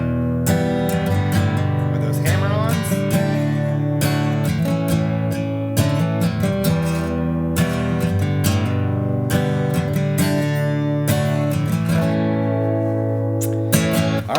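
Acoustic guitar strumming a country song at an intermediate level, with steady full chords and rhythmic strokes ringing loud and close throughout, no voice.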